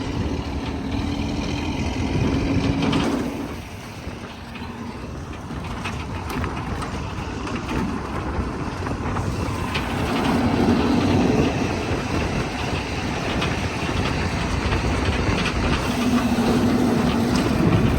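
A tractor works in a wheat and corn field during herbicide spraying, its engine a steady low continuous rumble and drone throughout, fairly close and without talk.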